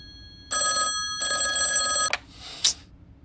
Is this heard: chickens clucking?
no